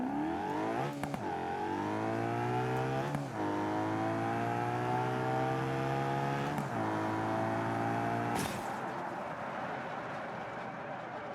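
An unmodded drag car engine in the BeamNG driving game revs hard and steadily through several upshifts, ending with an abrupt burst and then a lower, rougher drone. The engine is loud and continuous, with no talking.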